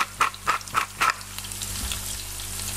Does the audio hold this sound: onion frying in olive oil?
yes